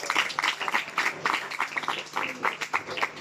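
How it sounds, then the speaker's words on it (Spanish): Guests at a quinceañera party clap together, a fairly faint, uneven patter of many hands with scattered sharper claps and some murmured voices in the room. "Fuerte aplauso."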